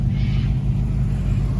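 A Triumph Stag car engine idles with a steady, low, continuous rumble close by and no change in pace.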